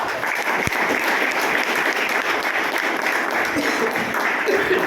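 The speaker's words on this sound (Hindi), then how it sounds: "तो इस सिस्टम के लिए एक बार जोरदार ताली चाहता हूं।" A large audience claps loudly at a motivational seminar, applause dense and sustained throughout at a steady, strong level, with a few sharper claps standing out near the start.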